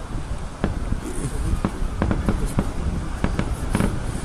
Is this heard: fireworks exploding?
yes